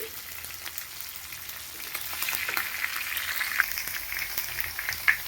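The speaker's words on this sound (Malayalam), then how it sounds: "ചിക്കൻ വറുത്ത് കഴിയാറായി" A steady, hissing sizzle of chicken frying in oil, growing slightly louder midway, with faint crackles and an occasional soft clink nearby.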